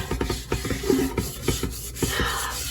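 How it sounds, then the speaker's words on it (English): A soaked, rusty Cracker Barrel cast iron skillet being scrubbed, giving rapid rough rubbing and rasping strokes in an uneven rhythm, close up and moderately loud, with no talking. "you're just going to get most of the rust off, the big gaping parts of the rust off"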